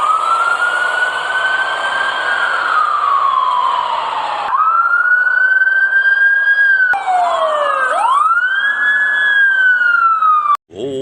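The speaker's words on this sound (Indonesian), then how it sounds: "Ada mobil pemadam kebakaran." Fire engine siren wailing loud and near, its tone sweeping up and down in long rising and falling arcs, with a second overlapping siren joining partway through and no speech.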